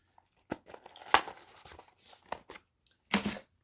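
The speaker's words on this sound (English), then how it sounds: "Using the OSHA approved keys to cut this box open" Keys slicing through the tape of a cardboard box for Bose 700 headphones, heard as a string of short close tearing and scraping bursts with a sharper rip near the end, no talking.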